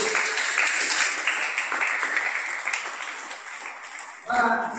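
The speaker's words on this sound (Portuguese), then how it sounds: "Dê uma salva de palmas para Jesus." Church congregation giving a round of applause, dense, steady clapping that fills most of the moment before giving way to a voice near the end.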